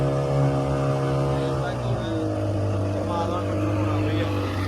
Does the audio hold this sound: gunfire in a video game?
no